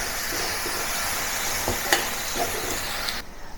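Pork ribs are set back into a hot pan for braising, giving a steady close sizzle and frying hiss with a few small clinks.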